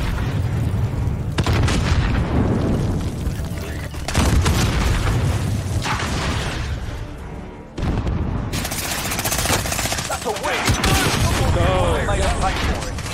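Gunfire and explosions in Call of Duty Warzone: dense bursts of rapid automatic fire and booming blasts, loud and near, nearly continuous with a short break midway.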